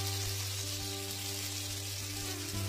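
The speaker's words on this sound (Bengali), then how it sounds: "বেগুনগুলো ভাজা হয়ে গেছে, এবার আমি তুলে নিচ্ছি।" Home-grown eggplant pieces fry in oil in a home kitchen while cooking Bengali begun basanti. A steady, close sizzle crackles continuously, with a low hum beneath and no talking.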